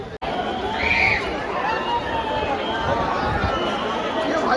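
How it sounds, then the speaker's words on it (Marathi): Huge, dense crowd packing the streets of Mumbai for India's World Cup victory parade, a constant roaring babble of many voices with shouts rising from it and someone speaking close by. "खूप डेंजरवाली गर्दी झाली"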